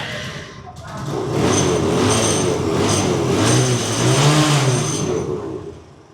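A used motorcycle engine being started and revved at a bike dealership, rising to a loud roar that swells and eases before fading, close by.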